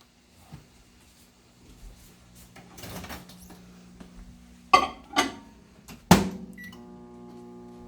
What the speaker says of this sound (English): I like to just microwave mine